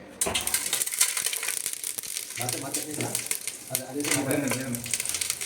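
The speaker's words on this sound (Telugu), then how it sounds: "ఆయిల్ బాగా వేడి అయిన తర్వాత తగినంత పోపు దినుసులు వేసుకోవాలి" Crackling, popping sizzle of tempering spices hitting hot oil for eggplant chutney, dense and close, with a voice speaking underneath partway through.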